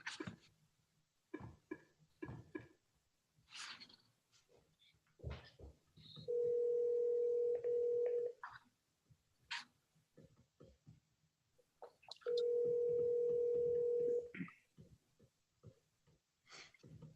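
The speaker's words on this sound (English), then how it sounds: "so let me see if I can get her on the phone." A telephone call is dialed and rings out, two long steady ringback tones separated by quiet, with faint keypad clicks, breathing and small handling noises between them and no speech.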